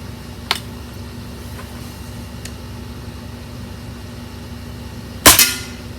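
A Diana RWS 48 .22 air rifle fires a single sharp, loud crack near the end, preceded by a faint tick and a steady low background hum.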